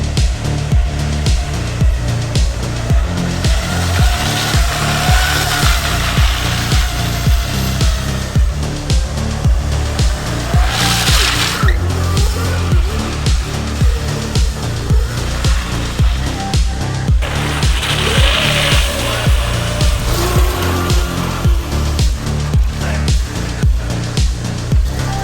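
An electric drift kart drifting produces a steady, loud, pulsing motor whine with rhythmic throbbing and shifting pitch sweeps, continuous throughout with no talking.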